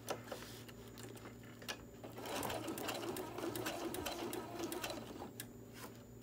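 A sewing machine runs a back stitch on a fabric bottle and can koozie, its rapid needle chatter steady and close, rising slightly midway and holding for several seconds with no talk.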